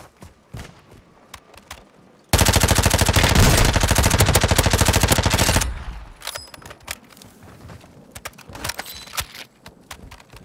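A rapid automatic gun in Call of Duty: Modern Warfare II fires one loud, tightly spaced burst lasting about three seconds, framed by scattered distant shots and thuds before and after.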